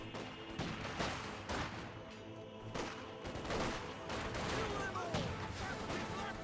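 Machine gun fire suppressing infantry in the World War II strategy game Company of Heroes 2, a rapid run of bursts and shots amid general battle noise, moderately loud, with someone speaking over it.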